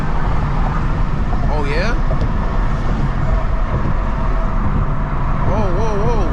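A BMW M2 accelerating on a late-night drive, its engine and intake giving a steady, loud, full-bodied roar that persists throughout while someone talks excitedly over it.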